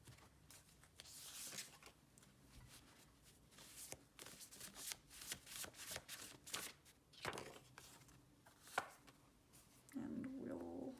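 A deck of tarot cards is shuffled close up in repeated riffling and slapping bursts with an irregular rhythm, soft but crisp, and a brief faint tone near the end.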